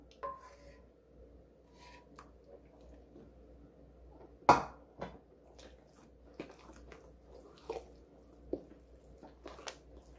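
Quiet, sporadic wet squelches and soft clicks as thick kimchi seasoning paste is stirred, with a few sharper taps against a bowl.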